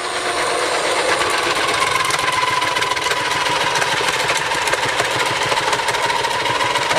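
An electric vegetable slicer machine runs continuously while cutting ridge gourd, giving a steady, loud motor hum with faint rattling throughout.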